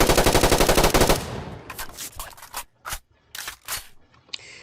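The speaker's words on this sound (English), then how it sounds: "You have the M16A3." M16A3 rifle firing full auto in a video game: a rapid, loud burst of about a dozen shots for just over a second, followed by several separate clicks and clatters of mechanical handling.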